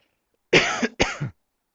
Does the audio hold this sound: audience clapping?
no